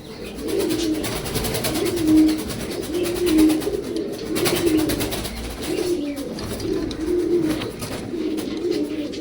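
Pigeons kept for sale coo close by in repeated low, rolling phrases that overlap steadily, over a constant background hiss, with no talk.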